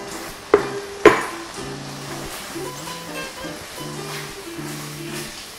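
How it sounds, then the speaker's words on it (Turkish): Beef and sauce stirred in a pan for stroganoff, with two sharp utensil knocks against the pan near the start, then a steady soft sizzle and scraping stir throughout. "Birlikte karıştırıyorum."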